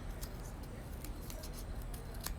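Scissors snip rounded petals out of a paper cup, giving a series of short, crisp cuts at an uneven pace, close up and alone over faint room noise.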